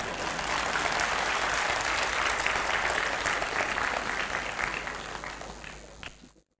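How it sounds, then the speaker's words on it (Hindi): Loud, dense clapping from an audience at a 50th birthday gathering, a steady roar of hands that lasts about six seconds before fading and stopping abruptly. "तालियां बजाएंगे तो ठीक से बजाएंगे।"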